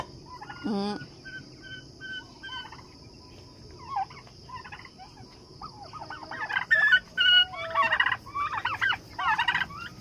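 A farmyard turkey gobbles in several loud, rapid bursts, strongest in the second half, over a steady insect-like background hiss with other birds faintly calling.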